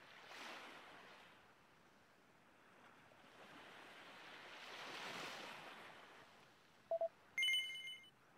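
Soft ocean waves wash and surge steadily in the Dragon Quest VII video game as a ship sets sail, followed near the end by a couple of short bright chiming tones.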